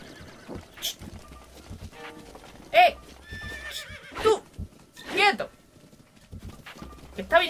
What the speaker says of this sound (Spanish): Está viniendo mi caballo.